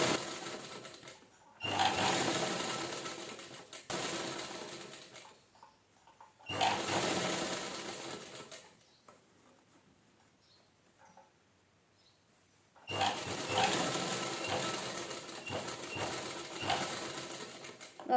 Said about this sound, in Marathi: पूर्ण राऊंडला स्टिच करून घ्यायचं